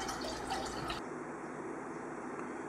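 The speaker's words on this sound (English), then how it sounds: "So we'll just fill up that pot" Water runs into a homebrewing pot for heating, a steady, faint hissing flow with a slight change in tone partway through, no voices.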